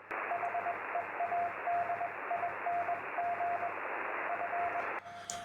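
A Morse code station on a ham radio HF band, heard as a clear, steady sidetone-like beep keyed in rhythmic dots and dashes over constant band hiss, stopping near the end.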